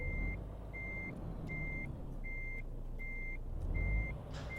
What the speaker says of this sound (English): I love that I make the beep sounds when I back up.